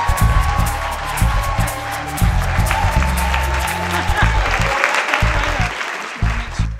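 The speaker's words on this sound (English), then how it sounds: "please give Camille Walker Banks a big round of applause." An audience at a storytelling show applauds loudly and steadily, a dense wash of clapping from a crowd that goes on for several seconds and tapers slightly at the end, with music playing beneath.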